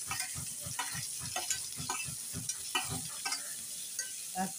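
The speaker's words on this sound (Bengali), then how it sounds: "এই যে পেঁয়াজ কুচিটা দিয়ে দিলাম মাছ ভাজা।" Chopped onion frying in oil alongside fried fish, soft sizzling under a regular rhythm of scraping stirring strokes in the pan, fairly faint and close, with no voices.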